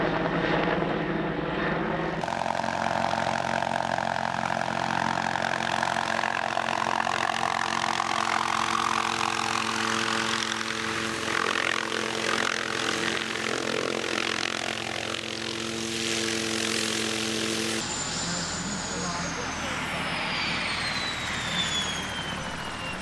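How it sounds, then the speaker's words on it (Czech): A police helicopter roars loudly and steadily throughout, its engine whine and rotor drone dominating, with a pitch shift near the end as it lands. "Blahopřání dalších hostů přerušilo přistání policejního vrtulníku."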